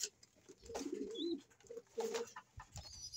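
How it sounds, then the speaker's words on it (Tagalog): Pigeons coo close by in soft, low, throaty phrases, two clear rolling bursts with quieter murmurs between, over light background noise. "Ito kalapatids ang ating mga ibon."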